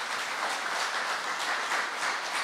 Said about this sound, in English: I must ask you to give a round of applause to Ms.